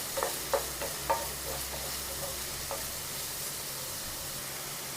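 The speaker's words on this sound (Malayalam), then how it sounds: "ഇനി നമുക്ക് ആ സവാള ഇട്ട് കൊടുക്കാം. സവാള ഒന്ന് നമുക്കൊന്ന് ഇളക്കി കൊടുക്കാം." Onions frying in hot coconut oil for chicken cutlets, a soft continuous sizzle with a few spatula scrapes early on as they are stirred, close up.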